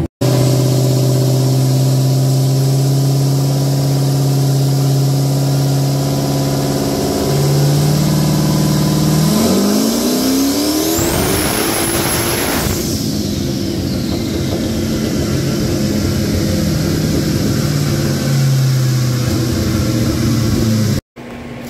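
A 5.3 engine with a GT45 turbo makes a full pull on a dyno, roaring loud and steady, climbing in pitch through the run with a rising turbo whine before it cuts off abruptly near the end.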